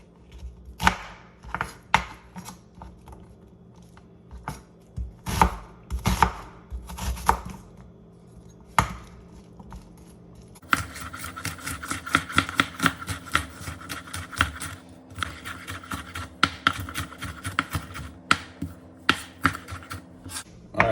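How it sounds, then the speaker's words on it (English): A knife finely chops half a medium onion on a cutting board, sparse knocks at first, then a fast, steady run of crisp, close chopping strokes. "I'm gonna finely chop my onion."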